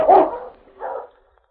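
Husky sled dogs bark in an old radio drama, two loud close barks a short moment apart, the first stronger, then quiet.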